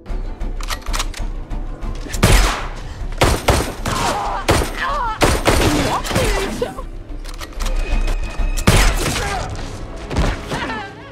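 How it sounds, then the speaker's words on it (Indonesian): Gunfire from an action film, with loud repeated bursts and sharp broadband shots spread across a busy, dense soundtrack, some shots spaced apart and others clustered together. "Akibat penyerangan itu, Matteo pun harus tewas terkena peluru."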